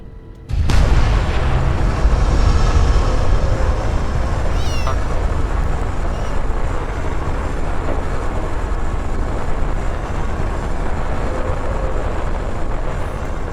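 Missile launch sequence inside a Fallout 76 silo: a sudden loud onset of deep rumbling roar that sustains steadily for over twelve seconds, with a brief rising whoosh partway through.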